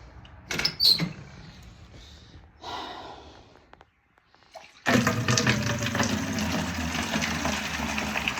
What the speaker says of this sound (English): So I'm just running the water now to get some more water for the cats and dog.